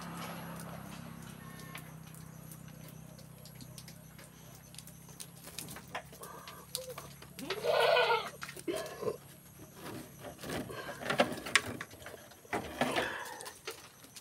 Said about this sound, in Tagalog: Ayan ang kambing.